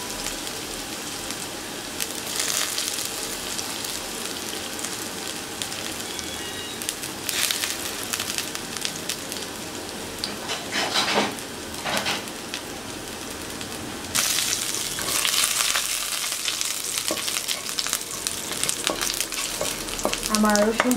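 Finely chopped garlic from two cloves frying in about a tablespoon of hot oil, a continuous close crackling sizzle that swells louder in the second half, with occasional stirring scrapes and no talking.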